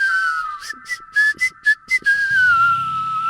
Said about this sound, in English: Beautiful whistling, that top-notch whistling.